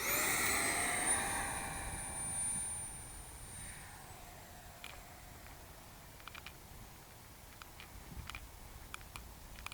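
A FreeWing Rebel 70 V2 RC jet with a fast 6S EDF unit flies overhead, its high-pitched ducted-fan whine loud at first and then fading and falling in pitch as it moves away, with faint scattered ticks afterward.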